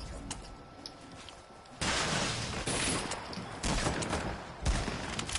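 Video game gunfire crackles in bursts of rapid shots, moderately loud against steady in-game background noise.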